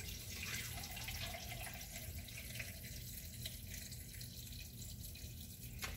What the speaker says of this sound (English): So we're just going to start with the elderberry juice. We're going to start straining that.